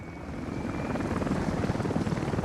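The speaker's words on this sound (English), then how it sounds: "It is a passenger helicopter," In Workers & Resources: Soviet Republic, a passenger helicopter flies overhead with a continuous rumbling rotor drone, its low choppy pulses building gradually over a couple of seconds and heard alone without talk.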